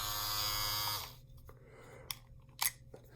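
A Philips Norelco 7200 electric shaver buzzes loudly and steadily at close range for about a second, then switches off, leaving quiet room tone with a few small clicks and handling taps.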